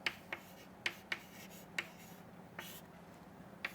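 Short, crisp pen taps and strokes sound on paper or a board as the P side of a semiconductor junction is written down, a handful of sharp close ticks spaced irregularly.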